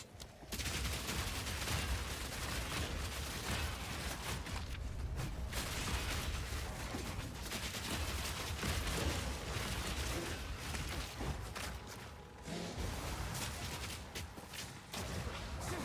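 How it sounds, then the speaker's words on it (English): Dense, relentless machine-gun fire from the video game Vaultbreakers rattles on almost without pause, a loud wall of rapid shots with only a couple of brief dips. "He's just machine gunning that thing all over the place."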